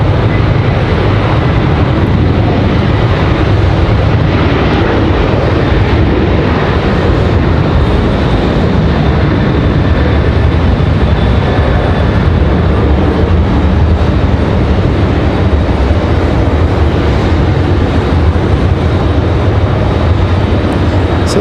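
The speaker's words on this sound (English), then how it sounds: "So the 737 at 900 going to burn up a lot of runway here." A Boeing 737-900 jet takes off down the runway at Raleigh-Durham International, its engines a loud, steady, broadband roar held for the whole stretch without letup.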